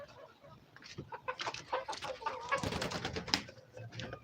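Several chickens cluck and murmur in short, overlapping bursts, fairly close, with a busy flock sound and no speech.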